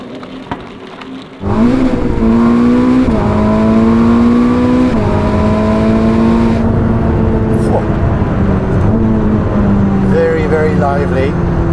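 The engine of a 1000hp Ferrari SF90 supercar starts up loudly and holds a high idle, with its pitch rising and falling through several revs as a person talks over it.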